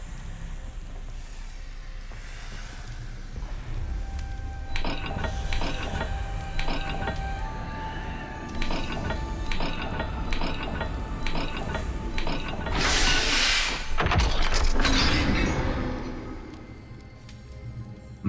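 Hidden stone mechanism in Hogwarts Legacy grinding and clanking open after symbols are matched, with steady ratcheting clicks, gear rumble and a louder scraping surge near the end, no talk.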